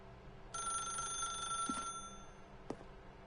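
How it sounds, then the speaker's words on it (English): A telephone rings in The Stanley Parable video game, a steady electronic trill lasting about a second and a half, with a couple of sharp clicks afterward and no talk. "then pick up the phone."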